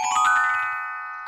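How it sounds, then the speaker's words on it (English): Loud bell in a children's cartoon, a full ringing strike that sustains and slowly decays, cut off by a brief noisy sound at the end. "Whoa! Loud bell."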